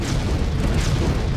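A dense, rumbling bomb blast roars loudly and continuously, with deep booming energy and a brief brighter burst partway through, one of a series of serial blasts in Ahmedabad.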